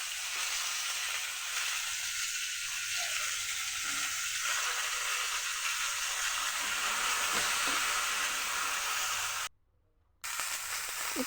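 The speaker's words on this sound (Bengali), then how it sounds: "শিমগুলো ভাজা হয়ে গেলে" Broad beans frying in a pan give a steady, even sizzle that holds at a constant level throughout, broken by one brief silent gap.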